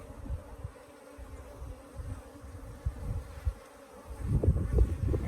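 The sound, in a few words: Africanized bees buzzing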